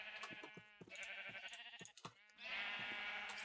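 Video game sheep bleating in several short, wavering bleats in quick succession, fairly close, with a brief gap midway and a steady hiss of game ambience behind.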